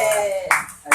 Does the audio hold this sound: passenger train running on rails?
no